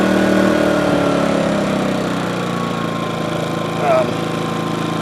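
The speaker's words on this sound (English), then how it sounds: "Here it is with the eco mode off. It's not all that loud either." A Harbor Freight Predator 2000 inverter generator runs steadily with eco mode off, a constant mid-level engine drone with a faint brief chirp partway through.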